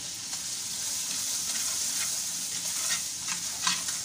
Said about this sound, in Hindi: इसको हल्का लाइट ब्राउन होने तक हम जो है हल्की आंच पे पकाएंगे